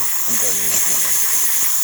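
Steam hissing from the steam wand of a DeLonghi Magnifica coffee machine, a steady bright broadband hiss lasting throughout, with someone talking over the start.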